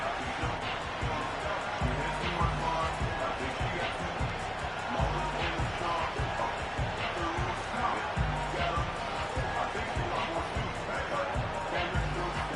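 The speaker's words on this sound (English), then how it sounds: "this crowd making it hard to hear" A constant roar of a large stadium crowd in an American football video game fills the clip, a dense wash of cheering and murmur with a commentator-style voice talking over it.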